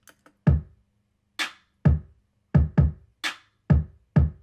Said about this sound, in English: the backbone of this beat is really just a kick and snare, and the snare is layered with the clap